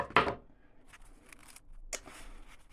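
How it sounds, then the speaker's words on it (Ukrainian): Scissors snip into a package being unboxed, one sharp close cut at the start followed by a few quieter crinkles and snips. "допоможу собі ножицями."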